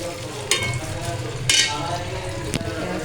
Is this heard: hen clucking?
no